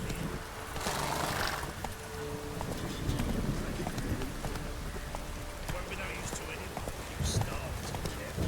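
Horse hooves pound at a gallop in The Witcher 3, a continuous rolling clatter with rain-like texture, accompanied by a voice and game sounds.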